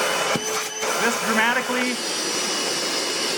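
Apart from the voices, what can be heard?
Milwaukee Gen 2 wet/dry vacuum running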